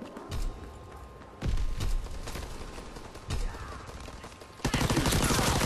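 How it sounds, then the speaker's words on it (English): A strafe run killstreak in Call of Duty WWII, with bursts of rapid game gunfire and heavy impacts arriving in several separate volleys, ending in a louder sustained barrage. "It's a strafe run, basically, that you're controlling."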